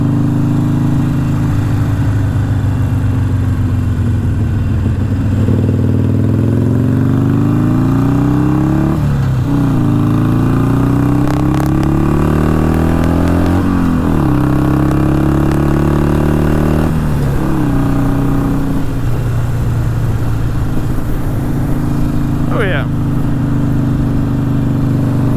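Custom Harley-Davidson Iron 883 Sportster motorcycle out on a ride, its engine droning loud and close throughout, revving up and easing off through several gear changes with no talking.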